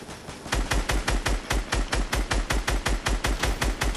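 Rapid automatic gunfire in the video game Fortnite, a fast, even burst of around twenty sharp shots spread over four seconds, loud and continuous with no talking.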